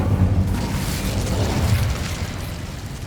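An Incendio fire spell cast in Hogwarts Legacy: a burst of whooshing flame with a dull booming body, loudest at the start and then settling into a rumbling crackle that fades slightly toward the end.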